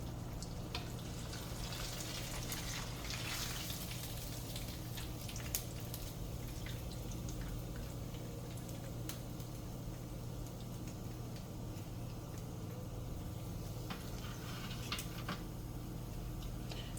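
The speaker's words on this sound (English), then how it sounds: "we're gonna add our other pork chops in" Pork chops frying in hot oil in a pan, giving a steady close crackle and sizzle with small popping drips throughout, no talking.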